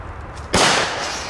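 A firecracker (rotje) goes off outdoors with one sudden loud bang that cuts through the quiet, followed by a brief fading hiss.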